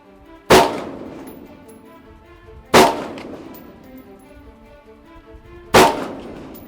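Three loud, sharp gunshots crack at an army firing range, spaced about two to three seconds apart, each followed by a short echoing decay across open ground.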